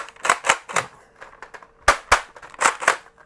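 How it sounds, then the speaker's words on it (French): A Tek Recon toy blaster fires a quick run of sharp, snappy pops in uneven clusters, about ten close-up shots with brief gaps between bursts. "Voilà, donc je tire."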